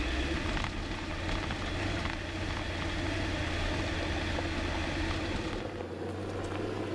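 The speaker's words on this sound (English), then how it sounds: "First, we'll take the van on a dirt road at 10 miles an hour." A van, called Fred, rolling along a dirt road at about 10 mph, with a steady, dense engine drone and low rumble from the road that runs unbroken throughout.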